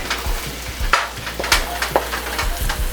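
Pork masala sautéing in a pan gives a steady sizzle broken by several sharp scrapes and clacks of stirring, close and fairly loud, with no talking.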